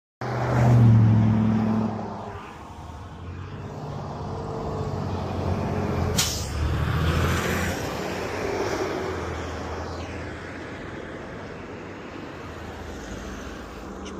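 Steady rumbling road and driveline noise from inside a moving Honda S2000, growing louder, with a brief rattle partway through and no talking.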